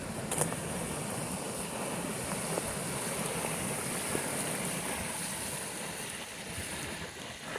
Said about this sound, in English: look at the waves coming in on the shore